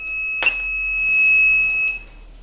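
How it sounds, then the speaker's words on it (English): An ESP32-driven buzzer switched on by an RFID card gives a steady, piercing electronic tone that holds for about two seconds after a short click, then cuts off, loud and close. "this is to turn on the buzzer"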